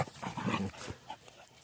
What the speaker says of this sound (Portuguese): os cachorrinhos hoje aqui estão impossíveis, né?